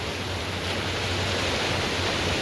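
A fast-flowing river current rushes in a steady, dense, broadband roar close to the listener, unbroken and loud throughout, with no voices over it.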